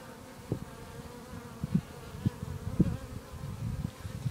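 Honeybees at a small Japanese bee farm buzz close by, low droning hums that rise and fade as individual bees fly past, fairly quiet with no talking.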